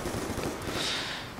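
Rapid automatic sniper rifle fire with a laser sight in Black Ops II multiplayer, a dense continuous burst of gunfire lasting the whole short moment at steady loudness.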